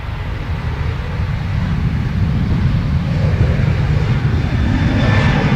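Ryanair airliner taking off from runway 10R at Dublin Airport, a loud, close jet roar with deep rumble that swells steadily over several seconds, with no voices.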